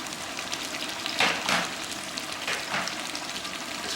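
Mutton curry frying in a pan as coriander is mixed in, giving a continuous dense sizzle with a couple of louder stirring swells partway through.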